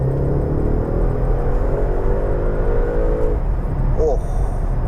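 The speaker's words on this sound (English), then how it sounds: "let's hear what that engine sounds like from in here" An Audi RS6 Avant estate held in third gear in manual mode revs its engine, heard from inside the cabin as a low steady drone with rising harmonics, then a brief higher whine near the end.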